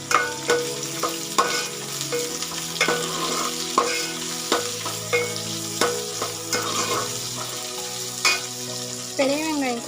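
Sliced big onions and curry leaves sauté in hot oil with popped mustard seeds, with rhythmic spatula scrapes and knocks over a continuous sizzle and tonal music in the background.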